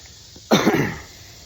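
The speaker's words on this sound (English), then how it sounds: "I'm sorry I cough a lot." A man coughs once outdoors, a single harsh burst that tails off over about half a second, close and loud against a quiet background.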